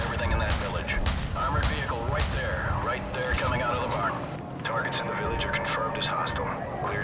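AC-130 gunship gunfire pounds a village in Call of Duty 4: dense, rumbling cannon and artillery bursts with sharp repeated impacts, loud and continuous, under radio voices talking throughout.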